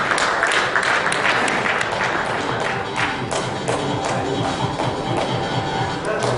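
Applause for award winners at an awards ceremony: a steady, fairly loud patter of many hands mixed with thuds and crowd noise, continuing without a break.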